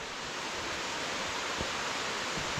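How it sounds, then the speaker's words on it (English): Rushing water of Comer's Creek Falls at the end of a narrow trail, a loud continuous roar of falling water heard close and alone. "I can hear the rush of the water"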